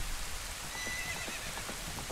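A horse whinnies in Zelda: Ocarina of Time amid a constant, dense game soundtrack, with faint hoofbeat-like clops pulsing steadily underneath.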